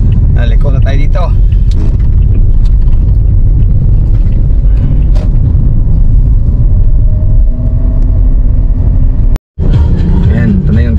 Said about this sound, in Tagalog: Ayan, ito na yung traffic dito sa Quirino Highway oh.